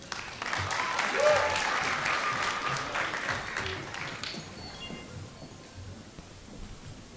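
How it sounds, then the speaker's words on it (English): An audience claps for several seconds at a school Black History celebration. The applause is dense and steady, then thins and fades into quiet room noise. "Give her a round of applause."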